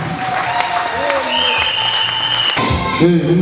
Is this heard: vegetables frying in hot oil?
no